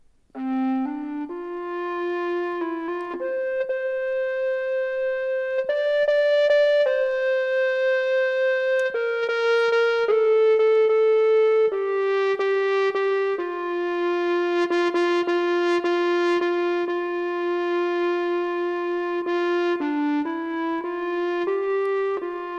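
A sustained Robkoo R1 wind synthesizer lead on a meditative patch plays a slow, calm melody with smooth gliding note changes, steady and clear throughout with no voices.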